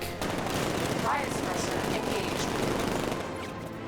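Rapid gunfire from the Batmobile in battle mode in Batman: Arkham Knight, firing at enemies and a tank, a dense continuous burst that stays loud for nearly four seconds.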